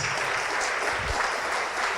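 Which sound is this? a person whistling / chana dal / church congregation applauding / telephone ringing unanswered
church congregation applauding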